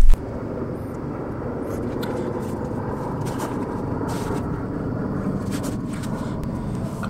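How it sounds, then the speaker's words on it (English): Jet airplane flying overhead at night, a continuous broad rumbling roar that holds steady throughout, heard alone with no talking. "Airplane."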